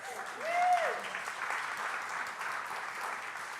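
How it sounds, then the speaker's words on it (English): Steady, moderate applause from a church congregation welcomes a returning guest speaker at a Sunday service, with a voice briefly heard over the clapping near the start. "Yeah, come on, they want to clap."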